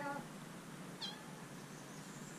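A pet cat meows a couple of times at home, short high cries near the start and around the one-second mark, fairly close over a quiet room background.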